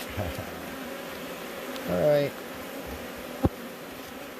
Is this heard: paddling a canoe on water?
no